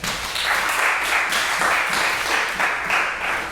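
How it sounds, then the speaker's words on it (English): Applause at a trombone masterclass, a brief, full burst of many hands clapping in a room, fairly loud and even, with no voices over it. "A little applause"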